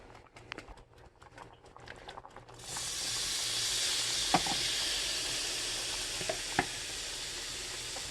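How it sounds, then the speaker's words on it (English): Seafood coated in seafood seasoning goes into a hot pan with a sudden burst of hissing sizzle that then holds steady, broken by a few sharp pops and clicks. Quiet handling noises come before it, and no one speaks. "I'm just going to heat these up and cook them with the seafood seasoning on them"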